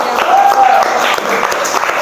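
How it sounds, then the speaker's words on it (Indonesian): Audience applause in a vocational automotive engineering class presentation, a steady dense wash of clapping lasting the whole moment, fairly loud and close, with a faint voice or tone briefly over it. "Kasih tepuk tangan untuk Mas Habib"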